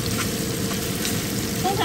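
Beef cubes fry in a pan with butter and garlic, giving a steady close sizzle with light stirring, and a voice talks over it.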